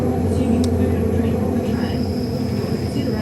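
A steady low rumble of a suburban train departing Rockingham station, with a faint high whine above and a brief squeal early on.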